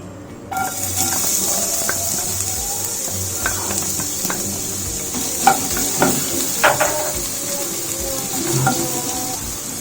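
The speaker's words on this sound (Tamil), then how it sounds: "இதை நல்லா மிக்ஸ் பண்ணிட்டு ஆனியன் ஆட் பண்ணிக்கோங்க" Onion frying in hot oil with curry masala, a steady sizzle beginning after a short silence, with scattered spoon-and-pan scrapes and clinks from stirring throughout; no talking.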